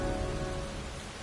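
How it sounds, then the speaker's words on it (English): Pouring rain in a video-game cemetery: a dense, continuous hiss of heavy rainfall on surfaces with a low rumbling underlayer, steady and enveloping throughout. "standing in a cemetery in pouring rain"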